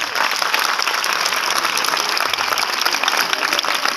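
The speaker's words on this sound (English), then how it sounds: "Give her a big round of applause" A crowd at an awards quiz event in Kakinada applauds steadily and loudly for the full four seconds, a dense even wash of clapping without a break.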